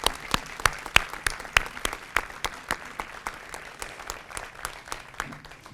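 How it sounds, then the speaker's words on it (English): Applause for Command Sergeant Whiteborn at a military change-of-command ceremony, a sparse outdoor clapping with distinct, irregular individual claps that thin out and fade toward the end. "let's give Commander Sergeant Whiteborn a great round of applause"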